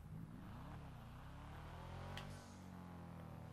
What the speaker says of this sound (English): It does have a turbo flutter, so listen.